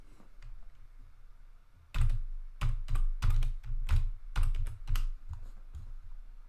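Fingers tap out a username and password on a computer keyboard in a close, uneven burst of sharp key clicks, with no speech.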